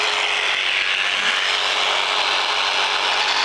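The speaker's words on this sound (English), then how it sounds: "Let's clamp that down." A clamp ratchets down on a length of wooden baseboard set on a miter saw, a steady close mechanical rasp and rub lasting throughout with no voices.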